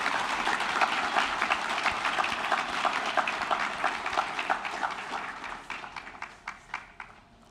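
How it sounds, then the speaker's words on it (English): Graduates of the BSBI class of 2026 receive applause at their graduation ceremony, a broad crowd clapping that thins out near the end into scattered, individual claps. "This is a round of applause to you, BSBI graduates"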